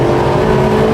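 Sports car engine pulls at full throttle in third gear from about 3,000 rpm, a loud, steady, close drone with a strong sustained note and no break.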